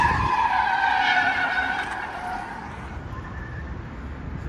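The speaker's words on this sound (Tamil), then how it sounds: "பார்த்தீங்கன்னா வண்டி ஸ்கிட் அடிக்காங்க." A car skidding on a road in Saudi Arabia, a loud drawn-out tire screech that slowly fades and lowers into a steady road rumble, heard alone with no voices.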